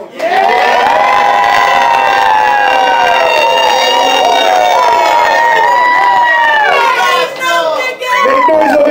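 A packed crowd at a rap battle roars and cheers continuously, loud and close, with high screams and whoops layered over a steady wall of voices.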